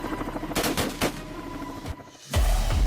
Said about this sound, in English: Firing warning shots now.